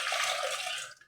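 Soaked lentils and fenugreek seeds are swirled and rinsed in a bowl of water, giving a steady close sloshing wash that fades out near the end.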